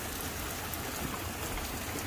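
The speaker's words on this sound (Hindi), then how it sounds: "और बहुत तेज बारिश शुरू हो गई है।" Heavy rain pouring down outdoors, a dense, loud, continuous hiss of drops that stays constant throughout with no talking.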